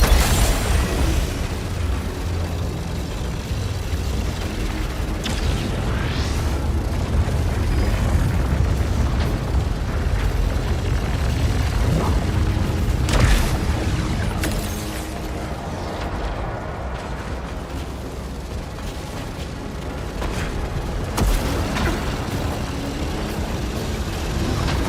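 Missile blasts boom again and again in a video game boss fight, a dense, continuous roar of explosions and rumbling impacts with sharp bursts rising over the din.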